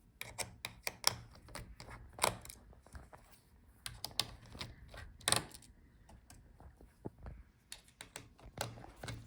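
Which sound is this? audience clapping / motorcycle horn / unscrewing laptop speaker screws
unscrewing laptop speaker screws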